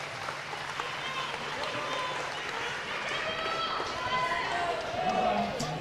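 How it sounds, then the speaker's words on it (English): An audience applauds youth speed athletes at a national youth championship in Australia, a soft, steady patter of clapping from a modest crowd that holds for several seconds with some background noise. "Round of applause for our Youth D male speed athletes."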